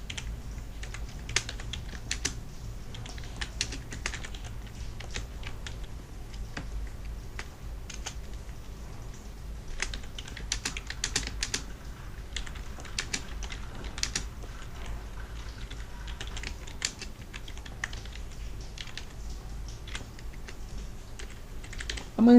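Steady, close typing on a computer keyboard while a blog description is entered: continuous irregular key clicks with no pauses to speak of.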